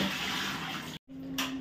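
Running water from a tap rinsing fresh turmeric roots, a steady splashing wash that cuts off briefly and resumes, close and moderately loud with no talking.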